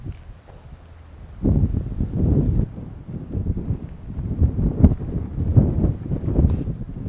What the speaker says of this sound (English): It's not normally windy in central Florida this time of year.